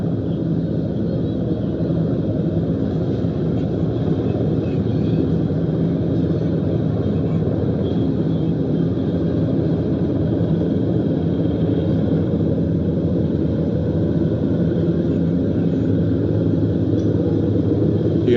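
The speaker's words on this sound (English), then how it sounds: "You guys can hear the helicopters over this area of town." A continuous low rumble of helicopters overhead during the George Floyd riots in the U.S. fills the air, steady and droning throughout, with no talking.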